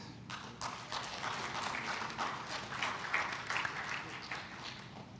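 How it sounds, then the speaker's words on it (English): Audience applause closes a G20 side event on decarbonization policy, a continuous bed of many hands clapping with distinct individual claps popping out and faint voices mixed in. "Give another big round of applause to this event."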